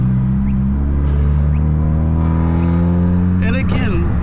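Manual Hyundai Elantra N driving with a steady engine and exhaust drone, then a brief cluster of sharp crackling exhaust pops near the end; a voice talks over it.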